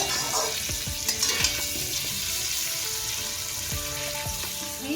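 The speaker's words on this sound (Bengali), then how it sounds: "চিকেনটা আমি একটু ভালো করে নেড়ে ফেড়ে নেবো এটা" Chicken sizzles loudly in hot oil in a pan while being stirred, a constant close frying hiss broken by repeated scraping strokes of a spatula against the metal, with no voices.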